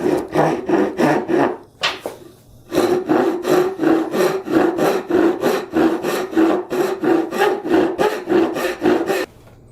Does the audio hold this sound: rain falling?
no